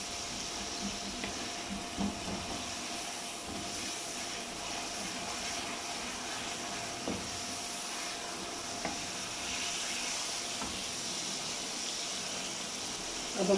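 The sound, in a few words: masala frying in ghee in a pan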